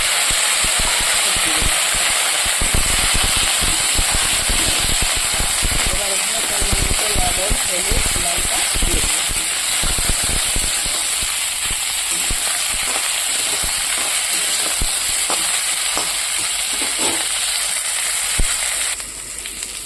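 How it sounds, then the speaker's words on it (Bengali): Pre-fried vegetables go into a hot pan of lightly browned onions and tempering spices, sending up a loud, steady sizzle and crackle. Stirring clatters through it, and a person talks over the cooking. "ফোড়নে দিয়ে দিলাম তো পেঁয়াজটা হালকা লাল হয়েছে এবার আমি এখানকার ভেজে রাখা সবজিগুলো দিয়ে দেবো দিয়ে দিলাম"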